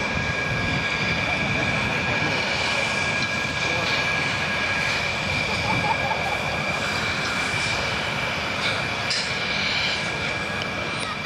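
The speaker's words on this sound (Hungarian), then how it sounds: "Teljesen függőlegesen zuhan a repülőgép." Continuous loud jet roar comes from a General Dynamics F-16AM Fighting Falcon of the Royal Netherlands Air Force during an aerobatic display, an unbroken engine rumble with a high whine and commentary partly under it.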